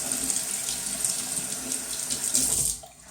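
Tap water runs steadily into a sink to warm a soaking Haslinger shaving brush, a close, continuous hissing stream that cuts off near the end.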